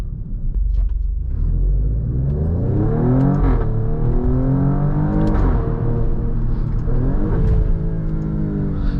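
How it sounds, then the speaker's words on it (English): A 2023 Alfa Romeo Stelvio Quadrifoglio engine revs hard over and over, its exhaust rising and falling in deep, loud roaring bursts that continue steadily throughout. "You could play with this exhaust all day long"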